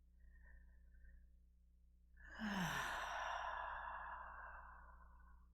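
A group breathes together deeply during a guided breathing exercise: one long, soft, airy exhale swells up and slowly fades, faint and alone against a low steady hum.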